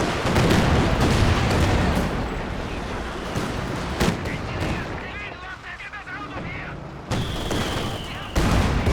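Dense gunfire and artillery from a Company of Heroes 2 match, with machine gun bursts mixed into continuous loud battle noise, explosions and impacts throughout, plus a brief whining tone near the end.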